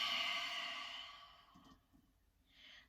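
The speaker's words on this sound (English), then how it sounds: "Inhale through the nose, open the mouth and exhale." One long, breathy exhale through an open mouth as a yoga clearing breath, close and soft, fading out and followed by a quieter breath a moment later.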